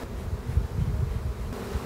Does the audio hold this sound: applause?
no